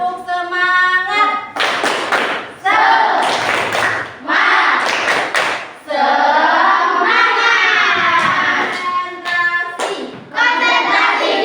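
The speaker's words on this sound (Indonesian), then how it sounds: "Tepuk semangat." A grade 5 classroom of children performs a rhythmic 'Tepuk semangat' clapping chant, sharp group claps in quick patterned bursts mixed with their chanted voices, loud and close.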